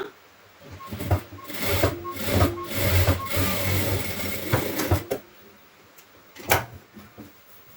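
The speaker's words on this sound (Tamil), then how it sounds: "இதை வந்து நம்ம டபுள் ஸ்டிச் போட்டுக்கலாம்." A sewing machine runs double stitches along a blouse piece during a tailoring lesson, in short whirring bursts separated by pauses and a few clicks and knocks, close and moderately loud.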